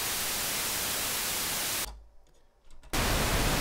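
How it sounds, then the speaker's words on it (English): Harsh full-band hiss of white noise from a Moog System 55 903A random signal generator, loud and steady, cutting out for about a second before resuming. "This is white noise."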